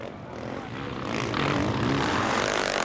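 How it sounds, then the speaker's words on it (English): A Suzuki RM-Z 450 motocross bike racing at full power in a 2011 New Zealand motocross championship, its loud engine droning and rising in pitch as it passes close by. "Using all of the horsepower from the RNZ 450 Suzuki."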